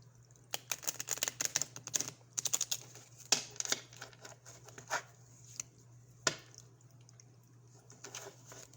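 Rapid clusters of crisp riffling clicks, like cards being shuffled up close, come in bursts separated by short pauses, with a faint background hum.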